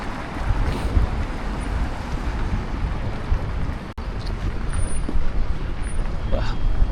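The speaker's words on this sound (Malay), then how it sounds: "Aduh, hai, tak tahan tu angin dia." Strong wind buffets the microphone outdoors in a Stockholm city street, a steady loud rumble with gusts throughout and no talk.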